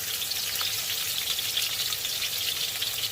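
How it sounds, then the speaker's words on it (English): Onions sauteing in a hot pan, a steady close crackling sizzle that holds evenly throughout with no talking. "then we're going to saute the onions and the ginger after"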